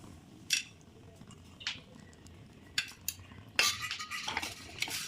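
Whole spices and cardamom pods being roasted in a pan for chicken curry: quiet scraping and stirring with a metal spoon, a few clinks against the pan, and a louder burst of scraping and faint sizzle near the end.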